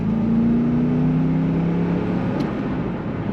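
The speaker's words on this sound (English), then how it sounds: "Very nice acceleration in this Corvette." A 1999 Chevrolet Corvette convertible with an automatic transmission accelerates from inside the cabin, a steady, loud engine drone with a rising tone and a constant road roar running throughout.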